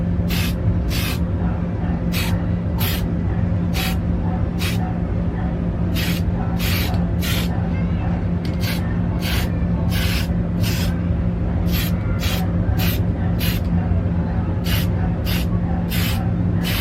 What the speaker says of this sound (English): will then spray contrasting grays to bring out more detail